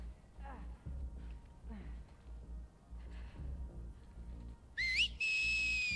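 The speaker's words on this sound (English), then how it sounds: "So tired of that damn whistle." In The Last of Us Part II, an enemy gives a shrill rising whistle that sweeps upward, then holds a sustained high tone, heard near the end after stretches of quiet ambient game sound and faint voices.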